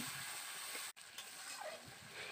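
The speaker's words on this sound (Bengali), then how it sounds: "এবার দিয়ে দেব বেটে রাখা সর্ষেটাকে দিয়ে আবারও ভালো করে কষিয়ে নেব" Spices and ground mustard paste fry for a puishak dish with a continuous bright sizzle, cut off by one brief gap and then resuming with faint stirring scrapes, and no speech.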